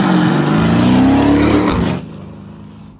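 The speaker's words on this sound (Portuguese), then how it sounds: "Mano, que carro ignorante." Loud car engine revving hard at close range, a sustained roaring acceleration with climbing pitch that cuts off abruptly and fades into quiet.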